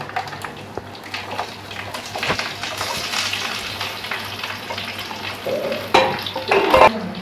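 Curry leaves and shallots sauté in hot oil for a chicken curry, a steady close sizzle and frying hiss with stirring scrapes, growing a little louder with sharper crackles toward the end.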